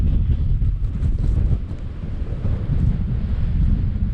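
Steady, heavy sand-laden wind roars and buffets continuously on the coast of Mauritania, a dense low rumble with gusty surges, no voices.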